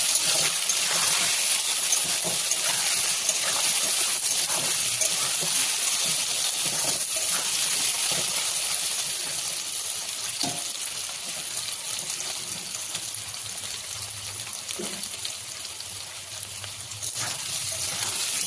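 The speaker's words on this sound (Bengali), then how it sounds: "গাঁঠি কচুকে এভাবে নেড়েছে একটু ভাজা ভাজা করে নেব।" Gathi kochu (taro) fries in a pan with turmeric and salt, a loud steady hissing sizzle with occasional stirring knocks, heard up close.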